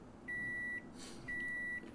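Microwave oven heating noodles in the video game No Customers Left, giving two long, clear electronic beeps with a short gap between them over a faint background hum.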